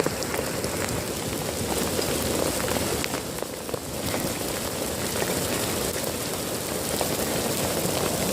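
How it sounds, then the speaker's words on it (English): Dense, continuous pelting of hail or heavy rain during street flooding in a residential lane, a loud hissing wash with scattered sharp impacts, steady throughout and no voices. "Hail."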